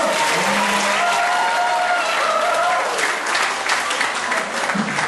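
Applause from an audience at a talk show opening at a psychology faculty: loud, dense clapping throughout, with faint voices and tonal sounds mixed underneath.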